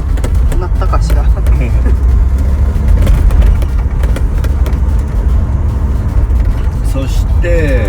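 Steady low road rumble from inside a car driving along Route 42 toward Mie near Kushimoto, Wakayama, continuous throughout, with voices talking over it.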